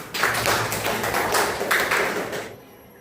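A classroom group claps in applause, a brisk burst of many hands clapping close by that swells, dips, then trails off into quiet near the end.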